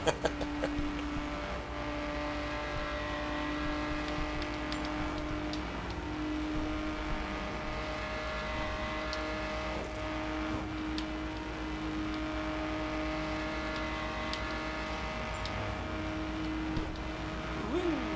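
Steady engine drone of a car driven fast along a foggy Pacific Northwest road in The Crew, a continuous even hum with faint passing whooshes and no talk.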